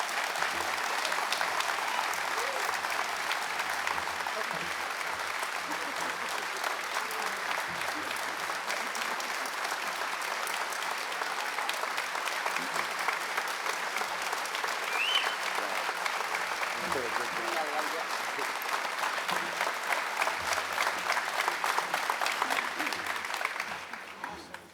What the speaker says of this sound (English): give another round of applause to Mrs. T.